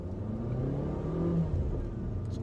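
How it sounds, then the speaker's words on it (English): A Volvo XC40 compact SUV pulls away from a standstill, its engine note rising steadily as it gains speed, heard from inside the cabin with no talking. "off the line acceleration here."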